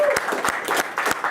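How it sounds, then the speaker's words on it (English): Applause for Hall of Fame inductees at a school sports night, many hands clapping in a close, lively burst with sharp individual claps standing out. "So just one more round of applause for everyone that made the Hall of Fame tonight."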